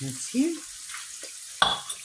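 Onion and vegetables drop into a hot pan for a Spanish green-pepper omelette, giving a soft hiss under a person speaking briefly, with a sharp clatter of utensil on pan near the end.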